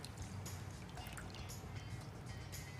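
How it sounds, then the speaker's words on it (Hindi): Water is poured into tamarind in a cooking pan, a soft, steady trickling stream under a constant background hiss. "हमने इसमें पानी ऐड कर दिया।"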